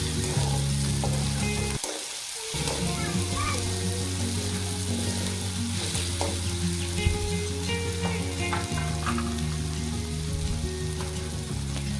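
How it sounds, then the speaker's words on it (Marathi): Tomatoes, onions and green chillies fry in oil for Maggi noodles, giving a continuous close sizzle with brief stirring scrapes and a steady low hum beneath, dipping quiet for a moment near the start. "टोमॅटो आणि कांदा चांगल्या प्रकारे मिक्स करून घेऊ आणि थोडा वेळ त्यांना शिजू देऊ"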